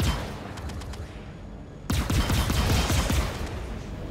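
Anti-aircraft guns firing in Star Citizen, a dense rapid rattle of distant bursts that abruptly jumps louder and heavier partway through, continuous to the end.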